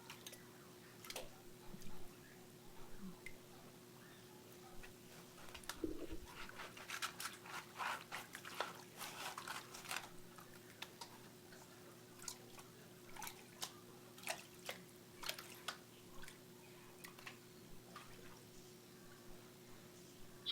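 Water sloshes and drips in a gold pan during practice panning at home with small lead pieces, a quiet, irregular run of soft splashes and ticks over a faint steady hum.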